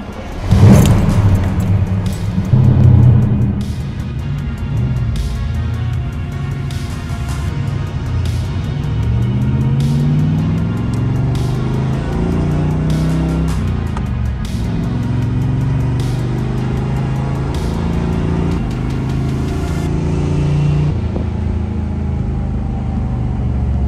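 A 1978 Pontiac Trans Am heard from inside while driving to a cars-and-coffee meet. The engine drones low and steady, with shifting tones as it accelerates, and faint ticks sound over the steady cabin noise.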